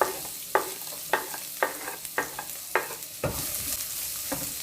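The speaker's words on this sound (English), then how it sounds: "Saute until the aroma comes out." Garlic and onions sauté in a pan for a shepherd's pie, a steady close sizzle broken by regular scraping stirs about every half second, with a louder burst of frying near the end.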